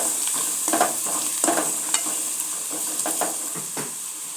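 Okra frying in a pan with salt and turmeric is stirred with a utensil, scraping strokes and light clinks repeating over a soft continuous sizzle, close and moderately loud, with no talking.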